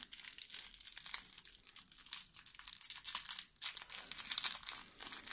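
Small wrapped object from a surprise bag being opened by hand: steady crinkling and tearing of wrapping close up, rustling in uneven bursts for several seconds with no talk.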